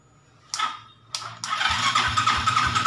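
Motorcycle with an ECU and ignition coil fault being cranked by its electric starter: two short bursts, then a longer steady cranking whir with rhythmic pulses, close and fairly loud.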